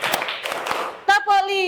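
An Indonesian primary classroom claps a counted rhythm, several broad hand-clap bursts over the first second, then children's voices chant loudly close by.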